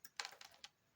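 Keys clatter on a computer keyboard as a prompt is typed, a few quick bursts of clicks close by, quiet and without voices.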